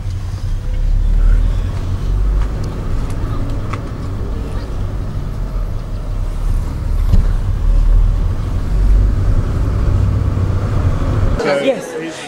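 Interior of a car driving through town streets on a trip to Noumea, with a steady low engine and road rumble, passing traffic swells, and voices talking over it before a door-like thump near the end.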